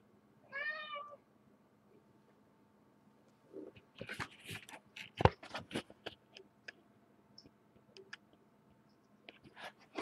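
A cat meows once, close and clear, at the start, followed by scattered clicks and taps of varying loudness with quiet gaps between them.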